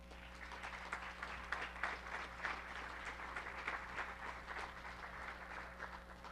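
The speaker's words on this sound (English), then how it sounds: "Please give our staff and our consultants a round of applause." A workshop audience at a public utilities commission event claps for staff and consultants, a dense, steady round of applause from a moderately sized crowd heard from within the room, sustained for several seconds without speech.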